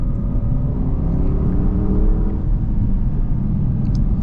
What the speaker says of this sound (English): Panamera Turbo with the performance exhaust.